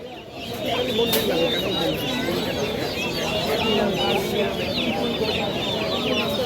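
Chickens cluck steadily at a busy, noisy bird market, with overlapping bird calls and people talking nearby throughout.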